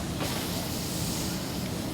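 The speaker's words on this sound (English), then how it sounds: "You'll just hear it sizzle when you hit it." Chicken pieces sizzle skin side up on an oiled barbecue grill, giving a steady, dense hiss with no pauses and no voices.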